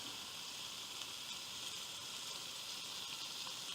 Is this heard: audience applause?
no